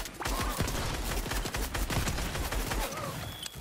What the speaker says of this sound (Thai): ยิงกับบอทเนี่ยยิงแม่นจัง